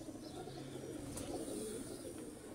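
Pigeons of a favourite fancy breed (Ali wale kabootar) cooing softly and steadily in low, murmuring tones over a continuous dense background, with an occasional faint chirp.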